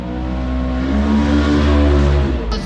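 A warmed-up car engine tuned with a Holley Terminator X idles loud and close, a steady low rumble with a faint clunk at the very end.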